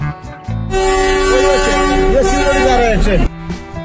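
A Darjeeling toy train sounds a long, loud, steady horn blast lasting a few seconds, standing out over nearby voices and background noise.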